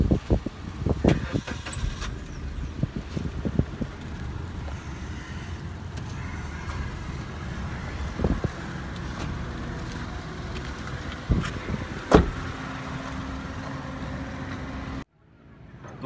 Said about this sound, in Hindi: अब हम गाड़ी का एसी चलाकर कुछ देर के लिए छोड़ देंगे।